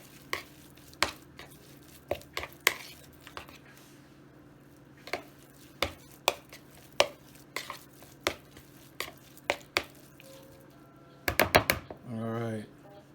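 Vegan crab cake mixture being stirred and mixed in a bowl, with a steady run of soft, regular clacks and scrapes, then a quick burst of knocks and a brief squishing sound at the end.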